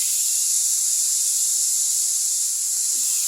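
Cabbage frying in a pan produces a steady, even hiss with no breaks, fairly close and with no voices.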